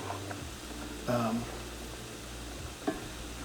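Duck fries in bacon grease over medium heat, a soft steady sizzle with faint clinks and a couple of brief louder stirring scrapes, quiet and close.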